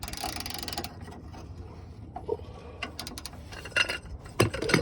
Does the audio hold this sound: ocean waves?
no